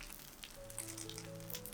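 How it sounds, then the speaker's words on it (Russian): Potato pancakes fry in vegetable oil in a hot pan, a steady soft sizzle running throughout under faint background tones and hum, with no talking. "жарим драники на любом растительном масле"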